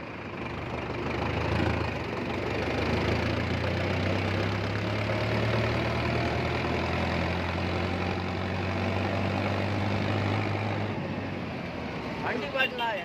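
A Mahindra Novo 605 DI PS tractor engine runs steadily with a low, even idling rumble and faint knocking, close and sustained throughout, with a voice talking over it.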